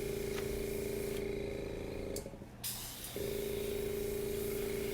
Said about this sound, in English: I'm just spraying out to get petals.